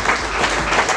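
A church congregation at a seminary service applauds, a brief, loud burst of many hands clapping filling the whole second.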